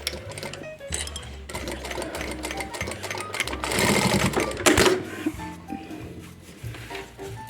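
A sewing machine stitches fabric for a windowed pencil case, running in short close bursts with brief pauses between runs.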